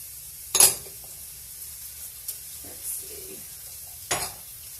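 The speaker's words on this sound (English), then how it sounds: "Hear the sizzle sizzle." Finely chopped garlic fries in a pan with a faint, low sizzle, broken by a few sharp clinks and scrapes of cookware.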